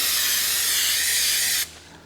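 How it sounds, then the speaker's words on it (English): An aerosol can sprays onto worn-out boots in one steady, loud hiss for about a second and a half, then cuts off abruptly. "Let's spray a little on here."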